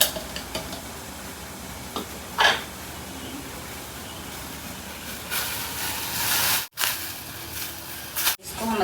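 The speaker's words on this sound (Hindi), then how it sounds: "उधर पानी हमारा उबल रहा है" A continuous hissing, bubbling rumble of water boiling in a pot, close by, with a few clinks and brief louder surges.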